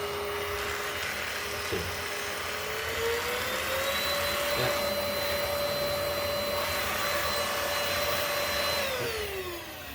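A Greenote GSC40 cordless stick vacuum cleaner runs with a steady, loud whirring hum and a high whine that rises in pitch partway through, then drops away at the end, with a brief spoken remark early on.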